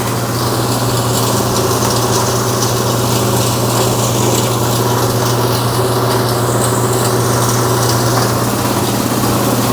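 A BDG Compact 1 mini granulator runs continuously while processing copper wire, giving a loud, steady mechanical drone with a constant motor hum and grinding texture throughout.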